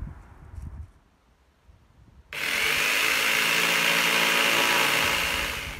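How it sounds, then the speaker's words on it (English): Jigsaw cutting a wooden board in half along a marked line; a quiet lead-in, then a loud, steady buzzing cut that runs continuously to the end. "All I'm going to do is use the jigsaw to cut down it."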